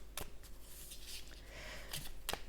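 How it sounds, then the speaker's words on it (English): Thin glossy oracle cards are shuffled by hand in a quiet room, giving a few soft, quick riffling bursts separated by faint rustles, close and low in level. "do a bit more of an aggressive shuffle and see how they go with that"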